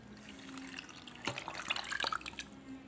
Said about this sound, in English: Add some more water.